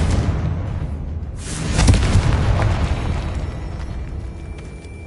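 A Confringo spell blast in the video game Hogwarts Legacy, a loud booming burst that swells and then rumbles away over several seconds, with no talking.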